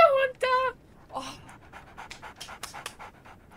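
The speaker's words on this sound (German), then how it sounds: "Das ist ihr Hund! Jetzt ist ihr Hund da!" Dog panting in the game Sherlock Holmes: The Awakened, a run of quick, rhythmic breaths at close range, opening with a couple of brief whimpering yelps before the steady panting continues.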